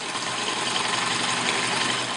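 Sewing machine stitching fabric with very thin stitches while sewing a cut piece onto a base, a steady continuous mechanical whirr running alone and close at an even level throughout.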